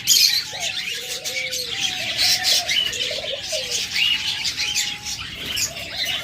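Pet cockatiels, budgerigars and lovebirds kept for sale chatter continuously close by, with layered squawks and quick chirps and no pause in the din.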